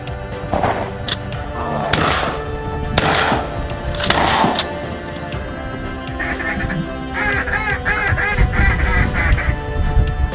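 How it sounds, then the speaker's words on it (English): Ducks quack repeatedly during a full-moon duck hunt, near and fairly loud, mixed with sharp bursts of shotgun fire early on and a rapid run of calls later. "We got another one of them mean old ducks."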